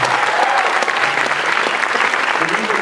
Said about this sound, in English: I think that deserves another big round of applause